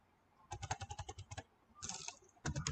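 Numbers are entered on a computer keyboard in two quick bursts of close, crisp key clicks with a short pause between them, fairly quiet overall, with no talking.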